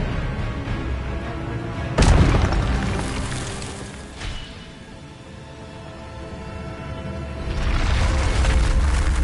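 Incendio and Expelliarmus spells cast in Hogwarts Legacy, a sudden loud booming blast followed by rumbling and a second swell of crashing magical effects, heavy and close with game ambience between.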